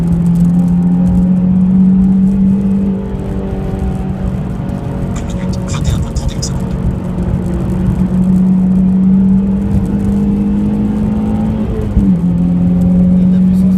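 A Corvette race car powers along the track at Lohéac, a steady loud engine drone that rises in pitch, dips briefly and climbs again, with people talking over it.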